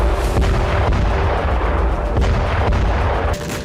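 Explosions at the Kakhovka dam in Kherson during the Russia-Ukraine war: a loud, dense barrage of deep booms and crackling blasts rolls on continuously, with sharper detonations punctuating the rumble.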